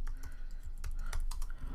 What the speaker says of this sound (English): I would press apply, then put in my computer password.